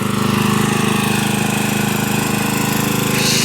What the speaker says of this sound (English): I got the lawnmower running